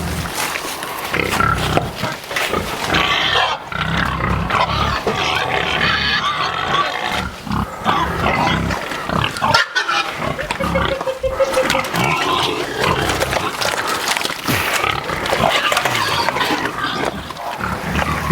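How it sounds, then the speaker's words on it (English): Hogs grunting and squealing loudly and continuously while being loaded on a homestead, close and busy, with a person calling out over the animals. "Go, pig, go."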